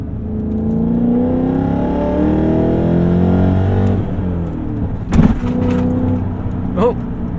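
A BMW E39 M5 Touring wagon's engine heard from inside the cabin while driving, a loud, steady throaty drone that rises and falls in pitch, with brief clicks and a short voice near the end.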